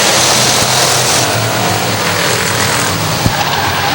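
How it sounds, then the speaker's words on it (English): Stock cars racing at Hudson Speedway in New Hampshire, a loud continuous roar of engines from the track with tire noise, constant and dense throughout. "Joe Pollard spins in turn number 3 and 4. He straightens it out, back underway."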